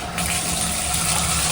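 A hotel shower at the Hilton Garden Inn in Mukilteo, Washington, runs at full pressure, a loud, steady, close hiss of spraying water that starts abruptly and continues unbroken.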